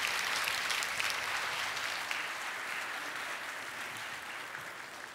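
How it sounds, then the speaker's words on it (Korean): A church congregation at a dawn prayer service claps steadily to welcome the preacher to the pulpit, a dense sustained applause that gradually eases slightly in loudness toward the end. "큰 박수로 환영하겠습니다"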